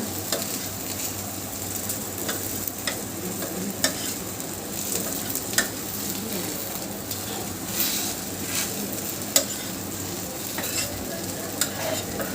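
Khandeshi thalipeeth, a flatbread, frying on a hot pan after being flipped, with a steady crackling sizzle and occasional scraping or stirring clicks across the whole stretch, close and even.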